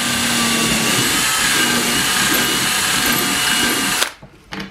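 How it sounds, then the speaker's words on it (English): A power drill runs loud and steady while boring a hole up through the bottom of a custom wooden knife stand, whirring at an even pitch for about four seconds before cutting off abruptly into quiet. "going to drill a hole through here. Try to drill it up through the bottom."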